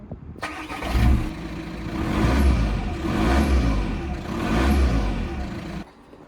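A VW Golf Mk5 with the PD150 diesel engine revs through its exhaust, starting up and then giving three rising, swelling pulls before cutting off, heard close and alone.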